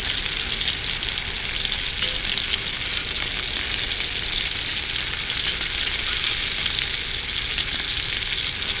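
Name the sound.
hamburger steak and potatoes frying on cast iron griddle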